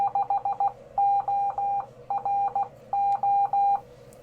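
A 4SQRP Hill Topper 20 CW-only radio sounds its frequency readout as a clear, steady Morse code tone: crisp groups of short and long beeps separated by brief gaps, close and alone over a faint background hum.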